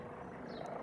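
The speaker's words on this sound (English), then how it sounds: "Police helicopter over us!" A police Eurocopter EC135 P2+ helicopter circles overhead, its steady rotor drone a faint, continuous rumble through a brief moment.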